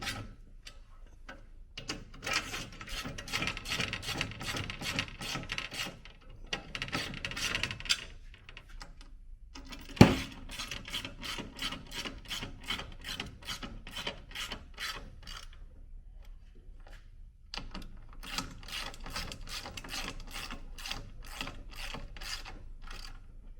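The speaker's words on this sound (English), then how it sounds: "So I'm just going to tighten these up nice and easy." 7/16 nylock nuts being hand-tightened while assembling a slide floor and drawer for an INEOS Grenadier, heard as rapid repeated ratchet clicking in bursts with brief pauses and one sharp knock midway, close up with no talk.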